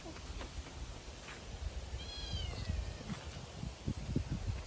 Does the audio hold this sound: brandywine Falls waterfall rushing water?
no